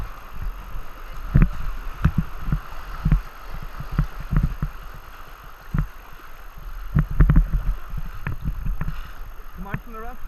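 Kayak paddling on a moving river during a lesson, with irregular close thumps and splashes of paddle strokes against water, some clustered in quick pairs, under intermittent wind buffeting and occasional speech.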